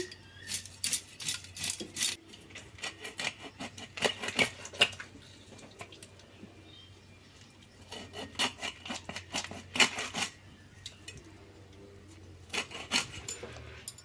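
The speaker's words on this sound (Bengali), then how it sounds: "তো দেখো মাছটাকে ভালোভাবে কেটে নিচ্ছি।" Rohu fish being cut up by hand for a sesame-poppy seed curry, repeated rasping, scraping strokes coming in bursts with short pauses, close and fairly loud, no voices.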